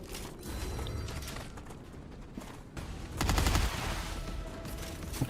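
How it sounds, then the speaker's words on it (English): Magazine change in the video game StarRupture, a burst of mechanical clicks and metallic ratcheting over dense rapid gunfire-like clatter, loud and close, with a heavier thump of impacts late on. "Changing mags."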